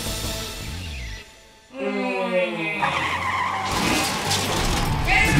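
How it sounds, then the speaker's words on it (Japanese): An animated Toyota High-medic ambulance skids and roars, with a loud tire squeal over engine noise, a brief drop in level, then sustained driving noise with a siren-like tonal sweep. "トヨタハイメディック救急車。"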